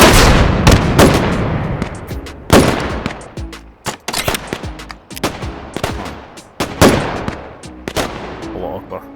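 Rapid gunfire and rocket blasts from H3VR on a VR qualification shooting range, loud sharp shots in clustered bursts with short gaps across the whole stretch.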